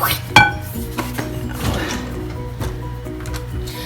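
Brownie batter whisked in a bowl, with a sharp clink near the start and then steady scraping, tapping strokes against the bowl, close and clear with no talk.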